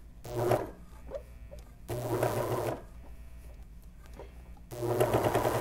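A serger overlock sewing machine stitches a knit toque in three short bursts of fast, whirring stitching separated by quiet pauses, close and moderately loud, with no speech.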